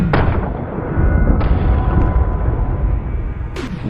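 A gun fires at a row of frying pans, a loud close blast with booming low rumble and rolling echo, followed by a sharp distant metallic crack and another impact near the end.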